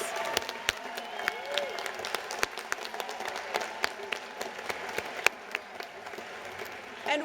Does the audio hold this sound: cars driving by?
no